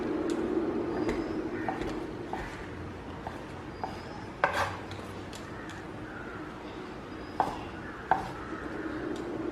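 Knife strokes cut marshmallows into small pieces on a board for a no-bake s'mores cake: a series of soft irregular taps and sharper chops, close and moderately quiet, with a light background hum.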